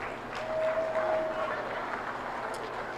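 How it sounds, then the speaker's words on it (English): Steady applause from a crowd watching a beef cattle show at the 2022 Howard County Fair, moderately loud and continuous, with a thin tone and some background voices mixed in. "Let's give her a nice round of applause."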